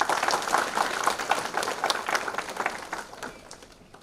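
An audience applauds, many hands clapping in a dense, steady patter that gradually fades toward the end.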